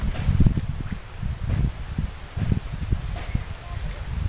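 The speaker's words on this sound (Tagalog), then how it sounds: "Ang lakas ng hangin." Strong wind gusts roar and buffet the microphone in low rumbling bursts, with rustling throughout and no clear talk.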